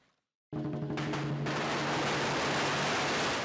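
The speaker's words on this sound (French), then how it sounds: "Des pétards pour chasser les mauvais esprits" Firecrackers at a Chinese New Year lion awakening ceremony open with a sudden burst after a brief quiet. They become a dense, continuous crackling barrage, loud and close, over a sustained musical drone.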